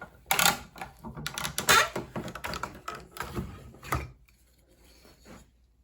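Hand saw cutting a wooden spatula blank along a marked line, heard as a close series of rough, uneven rasping strokes that fade toward the end.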